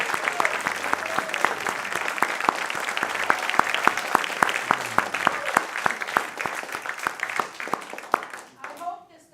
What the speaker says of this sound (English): Could you give me a round of applause for Karen and Harry Heeper?